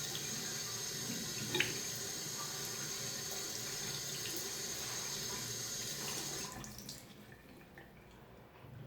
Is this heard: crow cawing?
no